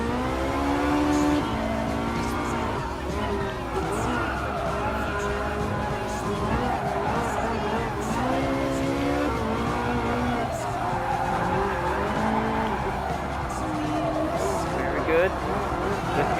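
Race car engines drone and tires squeal continuously during a Ferrari event race in the Gran Turismo Sport video game, with engine pitch rising and falling through the turns and a voice commentating steadily over the game sound.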